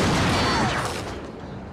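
A gunshot in a tense TV drama scene rings out loud and close, one heavy blast whose noisy echo slowly decays over the following second.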